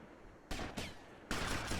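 Gunfire in GTA Vice City, a few loud sharp bursts starting abruptly, the last one sustained like an automatic weapon, with no talking.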